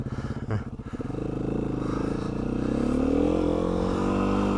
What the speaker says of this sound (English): gonna do more of a dual sport ride on the 2019 Beta 500 RRS